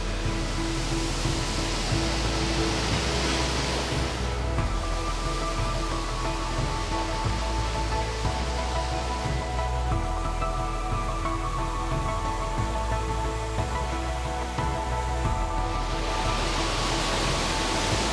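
Sampuran waterfall pours continuously, a loud broadband roar of rushing water that stays steady and close for the whole stretch, with no voices.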